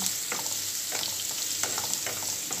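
Bitter gourd (ampalaya) fries in a pan with plenty of garlic, giving a steady, close sizzle with faint crackles and stirring scrapes throughout.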